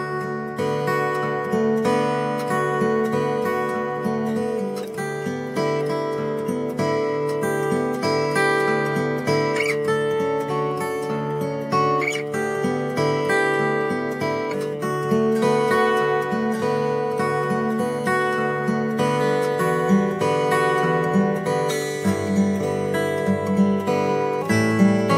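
A fingerstyle guitar progression in dropped D tuning plays alone and clearly, plucked notes over ringing low bass strings in a steady, flowing rhythm that keeps going without pause.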